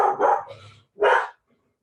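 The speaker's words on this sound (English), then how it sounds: "that's a child coming home and a dog barking" A dog barks close by during an indoor talk on extreme heat, COVID and equity in New York City, giving two loud, sharp barks with a short gap, then silence.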